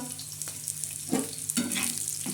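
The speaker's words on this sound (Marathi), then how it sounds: "आता हा कांदा आपला भाजत आहे" Onion and masala roasting in a pan for a spicy black-masala chicken curry give a continuous sizzle and fry, with a couple of brief stirring scrapes adding bursts of crackle.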